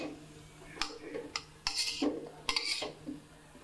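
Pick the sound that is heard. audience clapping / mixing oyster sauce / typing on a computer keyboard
mixing oyster sauce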